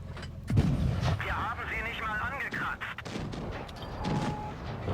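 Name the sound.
tank shot ricochet in video game World of Tanks Blitz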